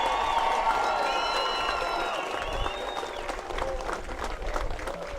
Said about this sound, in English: We have another big round of applause for our Clarkston Wolves.